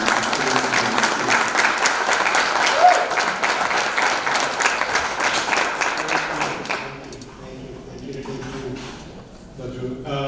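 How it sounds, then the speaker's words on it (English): An audience applauds steadily for several seconds, dense clapping that thins out and fades toward the end. "a resounding round of applause"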